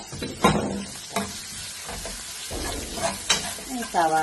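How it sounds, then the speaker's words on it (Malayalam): Sliced onion, green chilli and curry leaves fry in a pan for a coconut masala mussel stuffing, with a spatula clattering and scraping in uneven bursts over a soft sizzle, close by and without speech. "അതിലേക്ക് നമുക്ക് ഈ അരിഞ്ഞ് വെച്ച സവാളയും പച്ചമുളകും ഇട്ടിട്ട് കറിവേപ്പില ഒന്ന് മൂത്ത് വന്നാൽ നല്ലൊരു മണം ഉണ്ടാവും"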